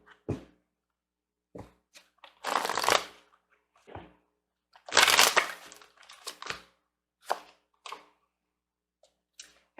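Oracle cards are shuffled by hand in close, quiet bursts of riffling and sliding, with short pauses between the handfuls.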